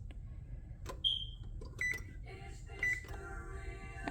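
An oven used for baking sugar cookies beeps after being switched on: three short, clear electronic tones spaced about a second apart over a quiet room hum.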